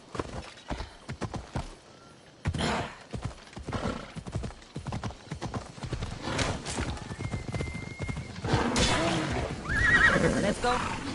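A horse gallops and neighs in Assassin's Creed Odyssey, with rhythmic hoofbeats at a steady pace and repeated whinnies rising over them, close and clear.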